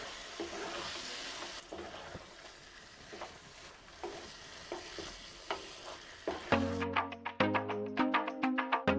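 Potato curry with coriander leaves and garam masala being stirred in a pan, a soft sizzle with scraping strokes that turn into a run of sharp, rhythmic spatula clacks near the end.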